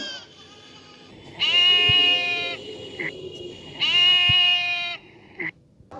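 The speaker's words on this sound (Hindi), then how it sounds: "बच्चों, अब मैं आपको मेमने की आवाज़ सुनाती हूँ।" Two long, loud bleats from a lamb or goat, each wavering and nasal, separated by a short pause, close and clear.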